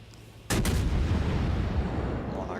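A heavy naval gun salvo fires in the World of Warships battleship game, a sudden loud boom at about half a second that rolls into a long, rumbling echo and stays loud through the rest.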